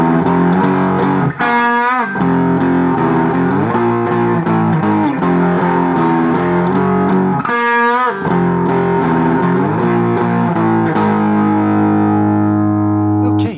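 Distorted electric guitar plays the bridge of a song, loud and continuous, with sustained power chords, two sharp slides or pick-scrape swells, and a long ringing final chord.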